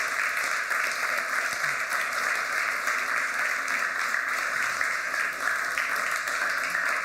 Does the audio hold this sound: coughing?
no